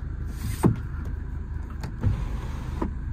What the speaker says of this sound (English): Electric sunroof as well on this one.